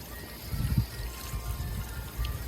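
Water from a garden hose at about half pressure rinsing a K&N air filter from a 2018 Chevy Colorado 3.6, a soft uneven trickling and splashing in brief bursts, fairly quiet and close.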